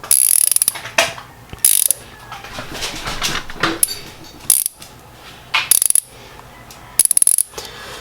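A Snap-on 3/8-inch 90-tooth swivel ratchet clicks close and loud in repeated fast bursts of fine ratcheting, separated by short pauses and quieter handling.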